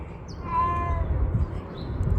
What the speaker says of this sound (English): Siamese cats are known for being very vocal.